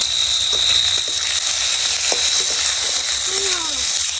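Onions and spices, including black cumin and green chilli, frying in oil over a clay stove, giving a steady close sizzle with a few light stirring clicks and scrapes throughout.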